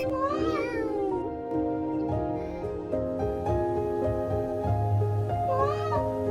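A lost kitten found in the rain meows repeatedly up close, with rising and falling cries at the start and end and quieter background sound between.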